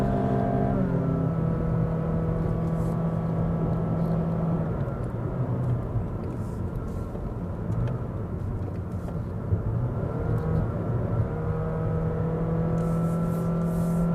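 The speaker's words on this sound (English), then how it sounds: "the engine is working very hard to charge up the battery" A 2022 Honda City RS hatchback with the i-MMD hybrid engine labours up the Genting hill road, heard from inside as a steady, strained drone whose pitch shifts slightly as the engine works hard to charge the battery.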